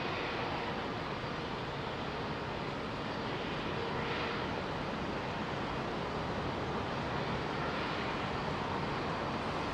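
Jet airliner landing at London Heathrow with undercarriage down, a steady broadband engine roar that fills the scene continuously, loud and close with slight swells, no voices.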